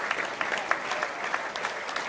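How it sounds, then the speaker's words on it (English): Bradford Bulls supporters applaud steadily at a rugby league match against North Wales Crusaders, a dense, continuous wash of clapping from a distant crowd with no talk over it. "The Bull supporters all on the feet, applauding."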